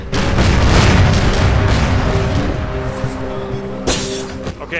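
Heavy booming blasts from grenades in the cyberpunk shooter game E.Y.E. Divine Cybermancy, a loud rumbling explosion that fades, then a sharper burst near the end, with talk faintly underneath.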